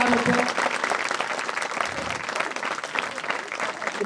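An academy audience at a prize distribution ceremony gives a teacher a loud, dense round of applause that lasts throughout, with a brief voice at the start.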